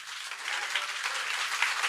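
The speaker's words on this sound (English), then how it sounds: "That deserves a round of applause, ladies and gentlemen." Brief burst of audience applause at a real estate seminar, a thick, even patter of many hands clapping for under two seconds with no talk over it.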